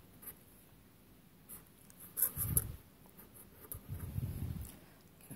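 A pen scratches numbers and zeros onto paper during a decimal multiplication problem, soft close strokes in short bursts with a couple of louder rubbing patches as the paper shifts.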